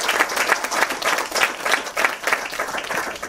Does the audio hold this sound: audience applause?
yes